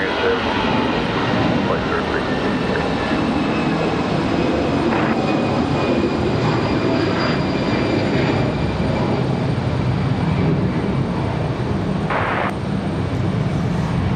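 An American Airlines airliner from Charlotte at Raleigh-Durham International Airport, a loud steady engine roar filling the scene, with talking heard over it.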